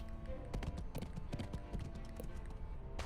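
Horse hooves clip-clop at a steady walking pace in a video game at Crossroads Inn, close and moderately loud over a faint background bed, with no speech.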